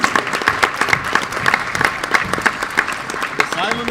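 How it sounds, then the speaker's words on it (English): Basketball crowd applauds a senior player at a high school girls' game, with continuous rhythmic clapping and voices mixed throughout. "Let's hear the applause for Brooklyn Godfrey."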